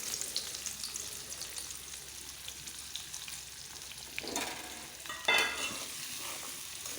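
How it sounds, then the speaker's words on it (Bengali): Chopped onions sizzle steadily in hot oil in a pan, seasoned with salt, for a coriander egg curry. The close, continuous hiss is broken by a few brief stirring bursts. "তেলগুলো গরম হলে আমি পেঁয়াজ কুচি দিয়ে দিয়েছি।"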